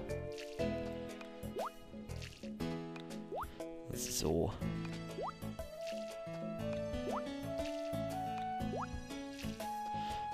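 A watering can sprinkles crops in the Harvest Moon farming game, a short splashing burst that rises out of cheerful background music, with a brief spoken word nearby.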